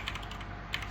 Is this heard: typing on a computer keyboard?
yes